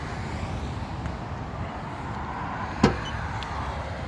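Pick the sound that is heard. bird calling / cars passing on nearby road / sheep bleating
cars passing on nearby road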